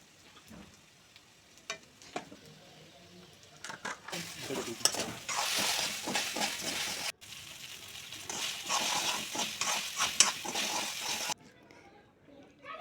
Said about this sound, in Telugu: ఫైనల్గా మనము లిటిల్ బిట్ సాల్ట్, చిల్లీ పౌడర్ని యాడ్ చేసి మిక్స్ చేసుకోవాలి